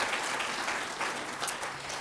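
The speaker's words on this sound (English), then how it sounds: "So round of applause for Richard." A forum audience gives a short round of applause, a soft, distant patter of many hands that stays even for a couple of seconds.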